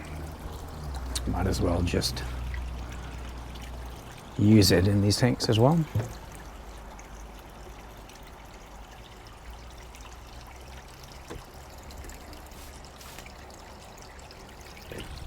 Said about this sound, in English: when I'm filling these tanks up, I just take from the Goldfish tank